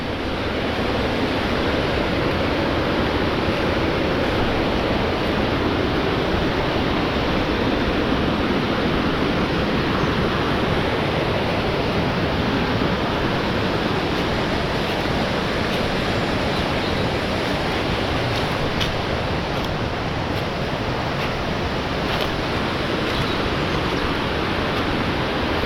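A waterfall roars steadily and loudly at the foot of Mendaur near Aurtitz, a dense, unbroken rush of water that fills the whole stretch with no voices.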